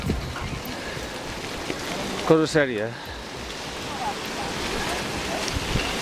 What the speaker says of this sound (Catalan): ens tira a terra aquest vent